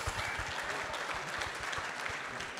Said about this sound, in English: Round of applause for Andy.